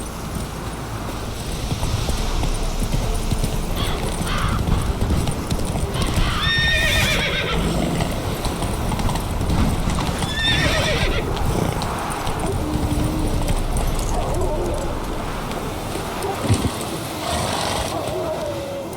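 A horse in The Witcher 3 video game neighs and whinnies over steady clip-clopping hooves, with game ambience and talk in the background; the whinny comes at least twice in the middle of the stretch.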